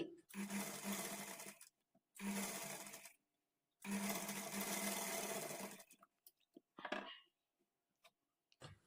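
A sewing machine runs in three steady bursts, double-stitching the sleeves of a blouse, each run lasting about a second or two with pauses between, followed by light handling clicks and soft rustling.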